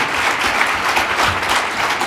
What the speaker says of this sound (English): So let's give a big round of applause to all of today's entrepreneurs